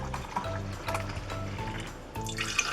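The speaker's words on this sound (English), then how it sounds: "I'm pouring mine into old jelly jars" Heated milk pours into old jelly jars for homemade yogurt, a soft continuous liquid trickle with faint glassy splashing, quiet and close with no voices.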